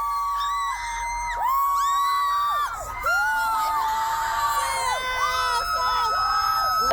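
A crowd of fans screams as the band walks out at a Melbourne concert: many overlapping high-pitched shrieks and whoops rise and fall, sustained and loud throughout.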